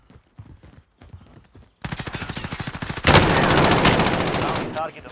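Rapid bursts of video game gunfire fill a combat scene, starting after faint earlier sounds and building into dense, loud sustained shooting near the end.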